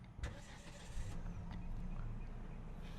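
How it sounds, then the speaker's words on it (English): Jaecoo J5 with a 1.5 turbo engine starting up: a short cranking burst, then the engine catches and settles into a steady idle, fairly quiet and heard without talk. "Let me start up the car."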